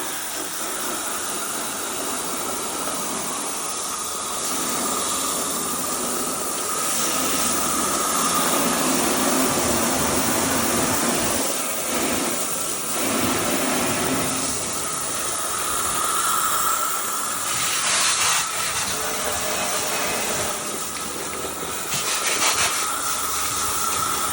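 Oven cleaner rinsed off a Monument grill with a steady spray of water, a broad continuous hiss with splashing shifts in intensity as the stream moves across the metal, close and sustained with no talking.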